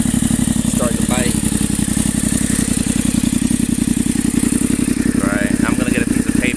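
A turbocharged Yamaha FZ07 motorcycle idles with a leaking exhaust, giving a loud, steady, rapid chugging rumble close up, and someone talks over it.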